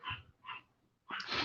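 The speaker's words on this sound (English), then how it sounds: "I don't know if you can hear the barking." A dog barks nearby in short yips: two quick barks, then a longer, louder bark after a brief pause.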